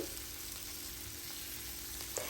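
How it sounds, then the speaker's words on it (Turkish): Peppers fry in butter in a pan, a faint, steady sizzle with soft crackles, heard alone at low volume. "Tereyağı eriyinceye kadar bu şekilde karıştırıp biberlerimi öncesinde kavuruyorum."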